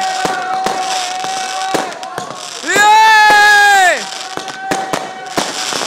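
Fireworks exploding on New Year's Eve by a bonfire: repeated sharp pops and bangs, with one loud whistling, crackling burst that lasts about a second; people shout and talk throughout.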